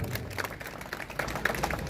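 A crowd claps at an outdoor wrestling match, a steady patter of many hands at moderate distance with a few sharper claps standing out and no voices.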